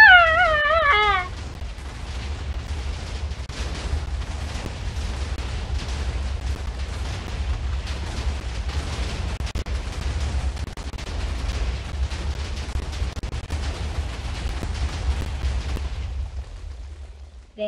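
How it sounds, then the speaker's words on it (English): A big explosion in Minecraft set off with WorldEdit, heard as a dense, sustained roar of low rumbling blasts lasting many seconds before cutting off abruptly, with a short burst of chirping sounds at the very start. "Dang, that was one big explosion."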